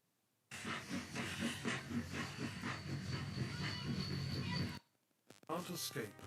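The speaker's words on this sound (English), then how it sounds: "Its noisy brake compressor and leaking boiler are evidence of poor maintenance." A North Korean steam locomotive with a noisy brake compressor and a leaking boiler gives off a steady, broad hiss with rhythmic chugging pulses, fairly faint and continuous, then stops abruptly before a brief resumption.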